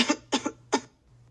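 Three short, close coughs in quick succession from someone with a sore throat and heavy cough blamed on yellow dust, the last one the strongest, followed by near silence.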